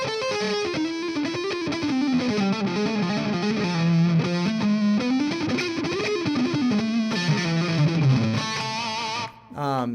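A distorted electric guitar plays a fast, winding Phrygian dominant lick with steady sustain, loud and alone until it cuts off near the end.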